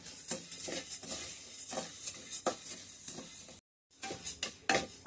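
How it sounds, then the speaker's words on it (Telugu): Cumin seeds are dry roasted in a pan, and a spoon stirs them in repeated light scrapes and rattles over a soft crackle. The sound is close and moderately quiet, breaks off briefly, then resumes, with no talk. "జీలకర్ర కూడా డ్రై రోస్ట్ చేసుకోవాలి"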